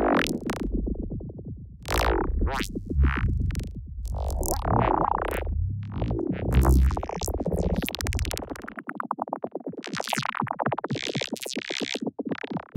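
Sustained granular effects texture swelling slowly into a dense, shimmering wash with a long trailing tail, continuous and fairly loud throughout, with shifting grainy upper layers and a brighter change in character near the end.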